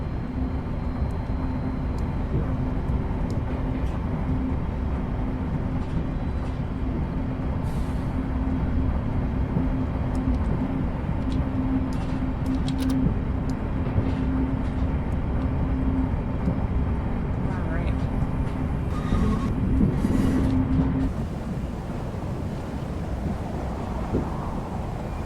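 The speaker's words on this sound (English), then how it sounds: "Pretty cool to see a train running a catenary" An electric interurban train on the Sacramento Northern line in Train Simulator Classic runs under trolley wire with a steady low rumble and drone, and faint clicks and squeals sit above it.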